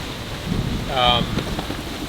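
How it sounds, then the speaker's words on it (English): Steady gusting wind of 20 to 35 knots rushes off the water and buffets against the microphone, with a brief tonal whine swelling in the middle, loud and close throughout. "It gets really windy. 20, 35 knots now."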